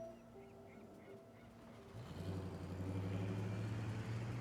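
A truck engine in the video game Tell Me Why rumbles up after a quiet stretch, its low steady drone growing louder and holding to the end.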